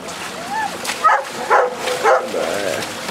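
A sea rescue dog yips and whimpers in short excited bursts during a training exercise, with a person speaking nearby between the sounds.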